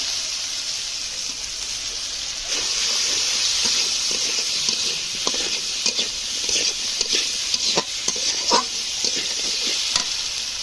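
Potatoes and vegetable stalks fry in hot oil in a pan, a steady close sizzle broken by scattered clinks and scrapes of stirring with a utensil, with no talk.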